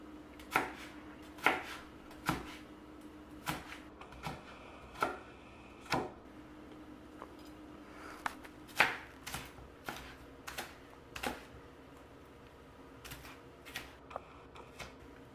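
A knife chopping an onion into thin layers on a board, giving sharp, close thuds in uneven bursts with short pauses between runs, no talking.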